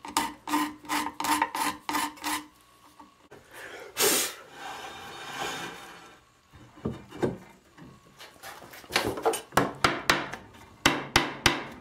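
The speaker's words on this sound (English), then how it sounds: "Let's scrape our high spots down again." A scraper works a wooden inlet for a swamped flintlock barrel, giving repeated short rasping strokes close up, in quick rhythmic runs with a longer scrape and pauses between.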